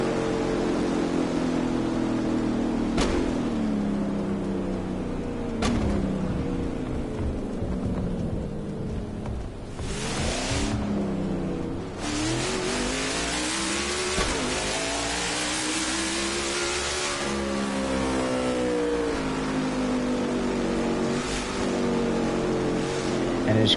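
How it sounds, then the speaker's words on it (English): NASCAR Cup Series car doing burnouts on the front stretch at Sonoma Raceway, its engine revving hard and continuously with repeated rising and falling surges, loud and close throughout. "now he's going to bring it back to the front stretch for his final burnouts"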